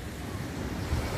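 Sea waves wash continuously at a beach in Cyprus, a broad steady surf roar mixed with wind noise on the microphone, loud and unbroken for a brief moment.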